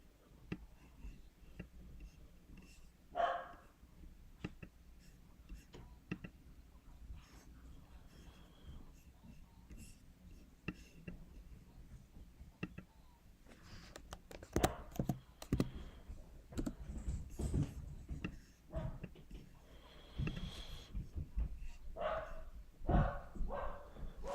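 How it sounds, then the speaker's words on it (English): Quiet barking from a dog comes in a few short bursts, somewhat distant, over steady computer keyboard typing and clicking in a room. "Please shut that dog up, man."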